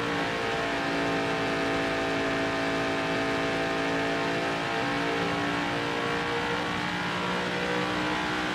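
Race car engines in the NASCAR Heat 5 video game roar continuously at high revs, a steady loud droning whine that holds without a break for the whole stretch.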